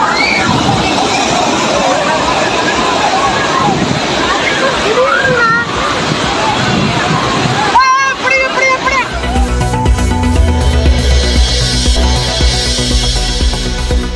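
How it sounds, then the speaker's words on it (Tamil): Sudden flash flood at Old Courtallam waterfall, a loud steady roar of rushing water filling the whole clip under a crowd's babble, with the sound turning harsher and more broadband partway through. "பழைய குற்றால அருவியில் திடீரென ஏற்பட்ட வெள்ளப்பெருக்கால் குளித்துக் கொண்டிருந்த சுற்றுலா பயணிகள்"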